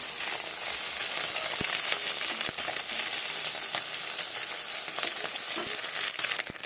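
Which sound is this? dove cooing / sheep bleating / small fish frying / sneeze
small fish frying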